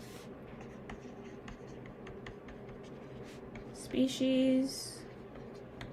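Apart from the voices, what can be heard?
writing out a chemistry diagram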